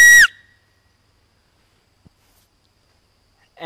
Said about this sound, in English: And it creates a nice whistle sound.